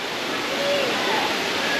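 A waterfall at Stong Hill Resort in Dabong pours with a constant loud hiss and rush of falling water, steady and close with no pauses.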